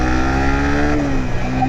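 A 2017 Suzuki GSX-R150 motorcycle engine revs loudly up close with a steady, buzzing drone, its pitch shifting as the throttle is worked.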